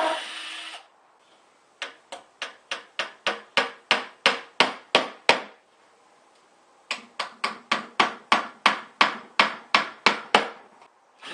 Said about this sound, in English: I'm going to use nails like this. Just basic 1-inch wire nails.